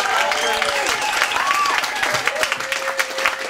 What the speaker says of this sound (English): Can we give a big round of applause to all of our guests